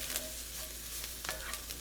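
Four cloves of finely minced garlic sauté with translucent softened onions in a pan, giving a steady, close sizzle broken by occasional scraping stirs.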